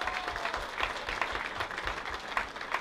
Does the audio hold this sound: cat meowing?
no